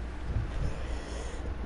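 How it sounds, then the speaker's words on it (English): A single short, sharp cough bursts out at the very end after a quiet stretch of low background noise. "I'm sorry about all the coughing in this video."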